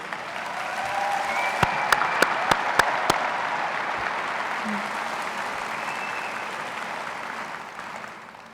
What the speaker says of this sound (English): Can we have a round of applause from everyone, please?